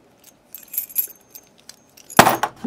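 Keys jangle as they are handled near a lock and table: a few light metallic clinks, then a louder, bright jingle close by near the end.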